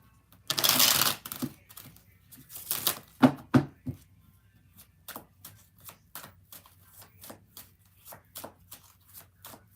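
Tarot cards are riffled and shuffled by hand close up, two loud bursts of flicking followed by a long run of quieter, evenly spaced card snaps and taps.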